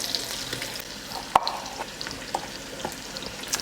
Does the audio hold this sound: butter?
yes